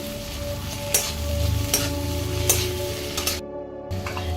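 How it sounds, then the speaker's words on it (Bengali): Bay leaves and ginger-garlic paste frying in a pan while being stirred, a steady soft sizzle with a few sharp scrapes of the spoon against the pan, close and alone. "এবার এর মধ্যে দিয়ে দেব হচ্ছে দুটো তেজপাতা এক চামচ মতো আদা রসুন বাটা একটু নাড়িয়ে নেব"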